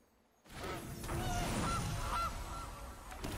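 A goose honk from the MTG Arena card game, a short nasal honking burst starting abruptly after a brief quiet moment and trailing off with a soft fading wash.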